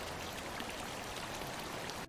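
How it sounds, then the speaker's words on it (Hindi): Steady rain falling, a faint continuous hiss of drops with no pauses, ending abruptly after about two seconds. "3 दिन बारिश होती रही।"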